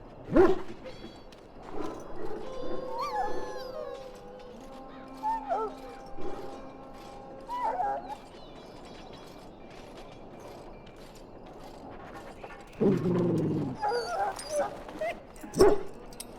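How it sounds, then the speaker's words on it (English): A dog whimpers and yips in the Dragon Age video game, soft whines recurring amid creaking mechanical game ambience, with a louder burst of sound near the end. "Now I can treat the dog properly, poor fella."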